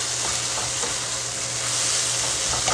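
Food fries and crisps in a hot pan with a steady, dense sizzle that holds level throughout, close and fairly loud, with faint stirring scrapes underneath.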